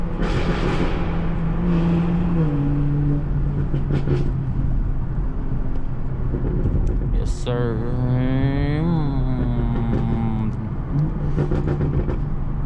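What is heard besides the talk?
car downshifting and revving in a tunnel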